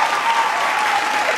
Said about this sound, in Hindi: एक बात भैया की ईमानदारी के लिए तालियां।